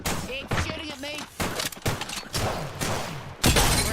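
Gunfire aimed at the player in a shooter game, sharp bursts and single loud shots breaking through excited voices, with a heavy blast near the end.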